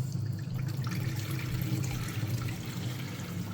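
Water drains from a home water filter system into a tub, a steady close rushing and gurgling flow that runs on without pause.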